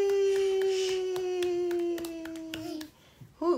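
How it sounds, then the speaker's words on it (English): A baby girl claps her hands indoors at night, making a run of soft, quick, uneven claps over a steady tonal hum, with a short burst of voice at the end. "Who taught you how to clap?"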